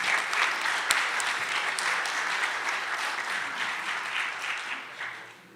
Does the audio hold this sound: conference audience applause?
yes